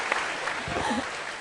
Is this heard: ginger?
no